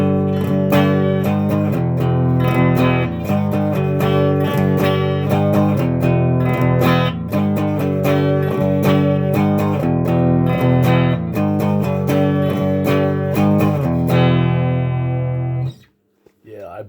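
An electric guitar plays a riff at full tempo, a steady, loud, repeating run of picked notes, clean and sustained, ending abruptly with a brief fade.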